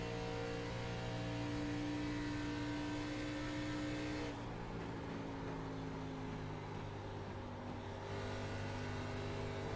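An engine drone from a race car in an iRacing ARCA Series race at Texas, steady and loud, then easing off partway through as the driver lifts and downshifts. The pitch of the hum drops, and no one talks over it.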